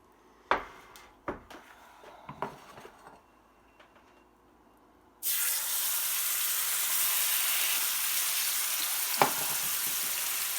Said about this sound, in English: I'm going to sear this on both sides.